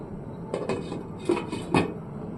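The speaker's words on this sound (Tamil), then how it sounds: "குழம்பு மூடி போட்டு ரொம்ப நேரம் ஆயிடுச்சு, ஓபன் பண்ணி பார்ப்போம்." A few light metallic clinks and scrapes as a lid is lifted off a pot of simmering tamarind curry, three small knocks over a quiet background.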